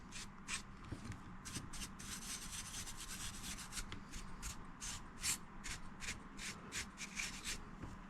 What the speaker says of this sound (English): I am using a soft bristle brush, so it's very unlikely it's going to damage any of the components on this board.